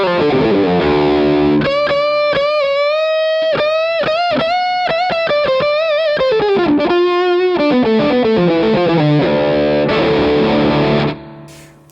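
Electric guitar played through a Superconductor boost pedal in Rangemaster mode feeding a Dane overdrive pedal, giving a loud, continuous, mid-forward distorted tone as a run of sustained notes and chords plays alone, ending with a brief fade.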